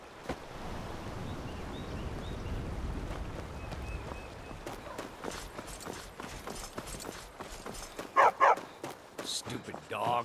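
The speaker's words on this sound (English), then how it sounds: "Stupid dog." A dog in the Skyrim game barks in a few short, sharp yelps near the end, following a stretch of ambient game sound with scattered clicks and thuds.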